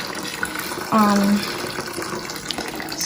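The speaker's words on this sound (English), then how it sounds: "I put some water in the bath, and then I put some warm water in there" Tap water running into a bath for a warm soak, a steady rushing flow with a brief louder tone near the start, heard amid background noise and faint talk.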